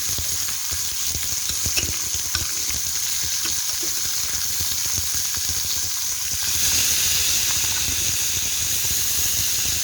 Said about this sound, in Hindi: ऑयल डालने के बाद ये पीसेस जो हैं हम ग्रिल पैन के ऊपर डाल देंगे